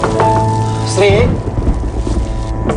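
Steady rain pours down at night, a dense hiss running under a brief tonal cry and some faint voice-like sounds that come and go through the clip.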